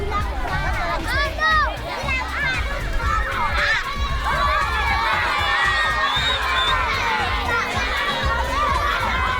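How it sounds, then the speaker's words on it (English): A large crowd of children shouts, whoops and cheers at an outdoor film screening tour stop in Lesotho, a loud, continuous chaotic din of many young voices, some near, with excited calls rising over the mass. "We have the best crowd right now we've had yet so far."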